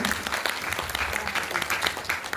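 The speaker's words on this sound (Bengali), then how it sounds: "জোরে জোরে একটা করতালি" Brisk, close audience applause at a classical dance festival, a dense continuous patter of many hands clapping at even loudness for a couple of seconds.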